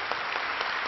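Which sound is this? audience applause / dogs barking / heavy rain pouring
audience applause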